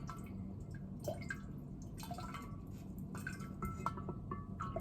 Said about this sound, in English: I'm just gonna squeeze out the extra liquid from these 4 tea bags that are in here.